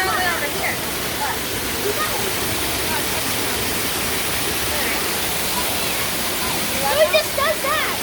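A gully waterfall rushes as a steady, loud broadband roar filling the whole stretch, with brief voices rising faintly over it near the end.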